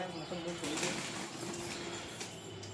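A large flock of pigeons on a rooftop: wings flap in soft bursts and low coos roll on steadily at close range, with faint voices in the background.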